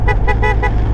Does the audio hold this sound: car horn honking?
yes